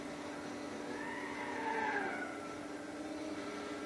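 An Alfa Romeo race car in the Gran Turismo 6 video game, a steady engine drone with a brief rising pitch sweep near the middle, moderately quiet and continuous with no talk.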